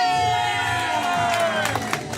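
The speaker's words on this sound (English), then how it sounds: "let's keep that applause going for our volunteers that helped us out tonight" An audience at an evening event cheers and applauds for its volunteers, a loud steady crowd roar with claps and whoops.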